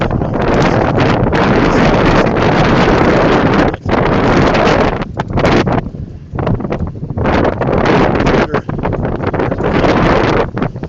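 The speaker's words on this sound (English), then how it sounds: "the wind, such as it is" Steady, loud wind roars across an open microphone aboard a sailboat, gusting almost continuously with a couple of brief lulls and a rustling, buffeting texture throughout.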